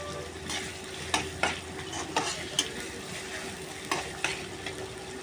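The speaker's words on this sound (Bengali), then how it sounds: "একটু লাল লাল করে ভেজে নিব যতক্ষণ ভাজা না হচ্ছে।" Chopped onions fry in a pan for chicken curry, a soft continuous sizzle broken by several sharp scraping knocks of a spatula stirring at an uneven rhythm, close by with no voices.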